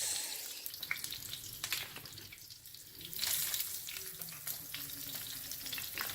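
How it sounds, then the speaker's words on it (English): Chicken meat sizzling in a hot skillet with a little water in the pan, a steady crackling hiss with bursts of louder spitting, fairly close and without voices. "I like to hear that meat go"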